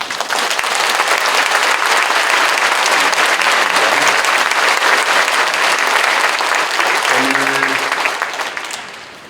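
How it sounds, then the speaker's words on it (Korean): A large church congregation applauds warmly at a Korean Protestant commemorative worship service. The clapping is dense, loud and sustained for several seconds before tapering off, and a voice speaks briefly over it. "우리 윤석준 목사님께 감사의 박수."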